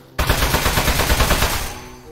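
Rapid automatic gunfire from the game Aperture Desk Job starts abruptly, fast regular shots rattling loud and close for about a second and a half, then trailing off.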